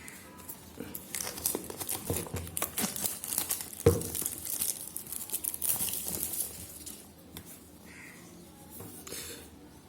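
A black Redmi 5 phone box has its seal cut and is opened, with crinkly crumpling of plastic wrap and tearing, irregular rustles and one sharp snap near the middle, fading softer toward the end.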